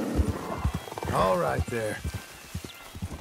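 Horse in Red Dead Redemption 2 whinnies loudly, with clip-clop hoofbeats on either side, while someone speaks soothingly to it.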